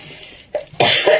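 A woman coughs during a sewing session: a short throat-clearing sound, then a louder burst of two or three harsh coughs close to the microphone.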